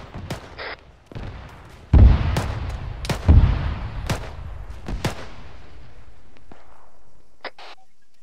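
A fragmentation grenade explodes in a jungle combat scene in a military shooter game: a loud, deep blast, then a second heavy boom about a second later, with sharp distant gunfire cracks scattered afterward.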